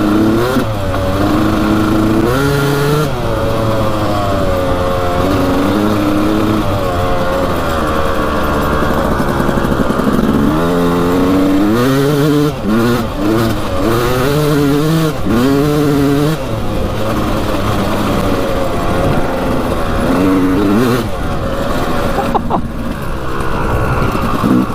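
A motorcycle engine revs hard and pulls through rising and falling gears while being ridden, loud and close throughout, with no talk over it.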